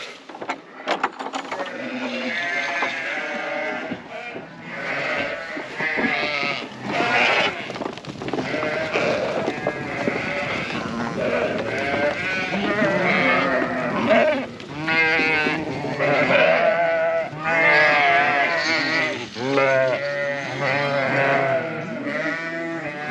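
Sheep bleat over and over, several animals overlapping in wavering cries. The bleating is close and fairly loud and continues throughout.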